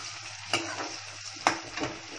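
Chicken pieces frying in a pan over a high flame, a steady sizzling hiss with two sharp scraping stir strokes standing out, close and moderately loud with no talking.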